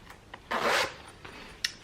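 A zipper on a small knitted-project bag pouch is drawn open in one quick, close rasping pull, with a couple of faint clicks of the pull tab before and after.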